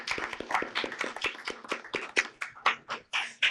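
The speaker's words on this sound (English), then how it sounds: "Let's give them a nice round of applause." Applause at a town board meeting: a modest crowd claps in quick, uneven bursts, the hand claps close and distinct rather than a dense roar.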